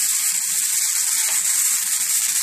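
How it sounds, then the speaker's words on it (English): Thin Dollar Tree ribeye steak sizzling on an oiled grill, a steady close hiss with faint crackles throughout. "let me go ahead and put the meat on the grill now"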